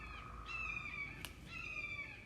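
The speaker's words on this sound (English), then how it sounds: "Oh, that's a hawk. Can you hear that hawk?" A bird of prey gives two drawn-out, high screeching calls from a distance, separated by a short pause, over quiet outdoor background.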